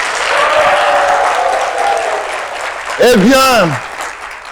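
An audience in a French talk-show café set applauds a DJ, a dense wash of clapping under a host's voice, before a brief swooping, rising electronic jingle cuts in.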